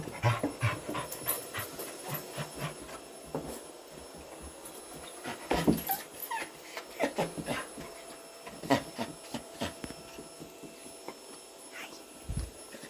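A dog pants and breathes rapidly at close range in a steady rhythmic series of short breaths, with a soft voice speaking intermittently over it.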